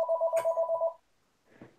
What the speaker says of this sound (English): Phone's for you.